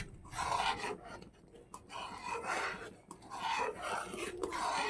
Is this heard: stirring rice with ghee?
yes